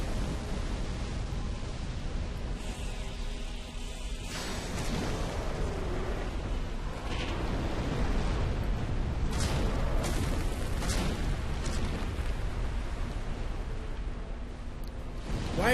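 Balls of fire blast from a character's mouth in a video game, a dense, continuous roaring rush broken by repeated booming bursts that stay loud throughout.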